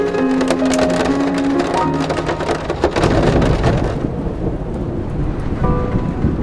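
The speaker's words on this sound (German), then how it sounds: "wir sind am Berg und es geht ein so richtig heftiges Gewitter nieder" Heavy thunderstorm rain drums on a camper van roof on a mountain, a dense loud patter with a rolling rumble of thunder throughout.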